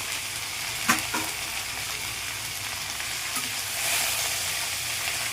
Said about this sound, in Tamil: புதினா, கொத்தமல்லி, கருவேப்பிலை இது 3மே போடுறேன். ஒரு 5 நிமிஷம் வதங்கினா போதும்.